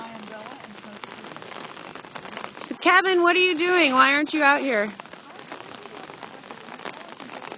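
Steady rain falls outdoors, a soft continuous patter under someone talking; partway through a loud burst of another voice or sound briefly covers it before the rain carries on.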